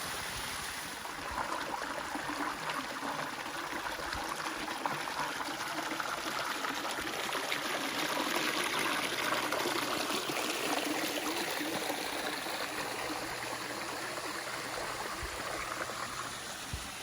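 Water tumbling over a small rocky drop of about three metres at Wangi Falls, Litchfield savannah, a constant broad rushing and splashing heard close and steady throughout with no voices.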